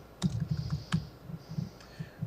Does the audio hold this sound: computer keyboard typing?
yes